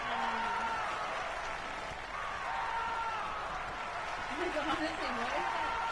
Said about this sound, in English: Oh, no, I hear the screaming. Screaming's back.